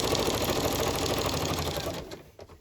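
A sewing machine stitches down paper in a fast, even mechanical chatter, close and steady, before slowing and stopping near the end.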